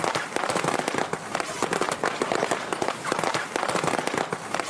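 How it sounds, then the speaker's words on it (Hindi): Firecrackers burst in a dense, continuous crackle of sharp pops recorded as a movie sound effect, loud and close with no pause across the whole stretch. "मूवीज में पटाखों की फूटने की आवाज कुछ इस तरह से रिकॉर्ड की जाती है।"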